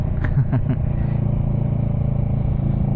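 A motorcycle idles close by with a steady low exhaust rumble, a few brief throttle blips near the start, then even chugging.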